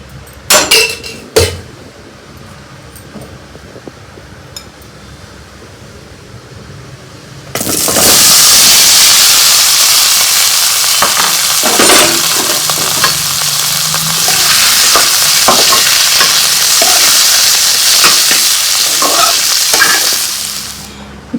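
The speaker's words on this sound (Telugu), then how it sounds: "2 స్పూన్లు ఆయిల్ వేసి అందులో అరటికాయ ముక్కల్ని వేయిస్తాను" Raw banana pieces drop into about two spoons of hot oil after a quiet stretch with a few pan knocks. A loud, dense sizzle then takes over, with stirring clatter and crackle running through it, and no voices.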